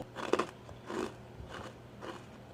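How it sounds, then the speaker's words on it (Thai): Dried jackfruit chips bitten and chewed up close: a few soft, crisp crunches in an irregular rhythm, fairly quiet, with no talking. "อันนี้สีเหลืองน่าจะเป็นขนุนนะคะ ทุกคนมาชิมกันว่าจะกรอบไหม"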